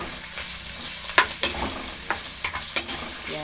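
Garlic frying in a pan with a bright continuous sizzle, punctuated by several sharp scrapes and clinks of stirring, close and loud.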